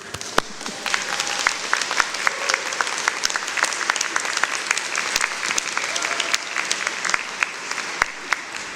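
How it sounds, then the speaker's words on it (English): Graduates at an SFU fall convocation ceremony applaud and cheer in a sustained, thick wave of clapping, with sharper individual claps popping out near the front and a crowd roar underneath. "Now's the time when you all cheer."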